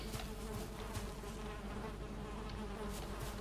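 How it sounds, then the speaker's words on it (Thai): Steady insect-like buzzing hum from a creature in the video game Valheim, continuous and fairly loud throughout, with no speech over it. "เสียงเหมือนผึ้งเลย"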